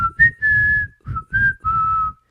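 A person whistling through the teeth, a clear breathy tune of six short notes, close and alone.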